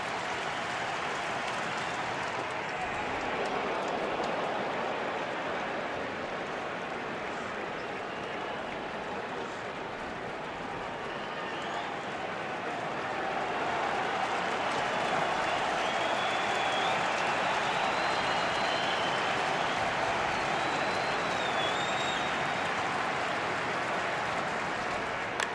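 Stadium crowd at a Yankees vs Red Sox Wild Card playoff game roars and cheers steadily, a dense sustained wash of noise that swells louder toward the end, with faint whistles rising above it.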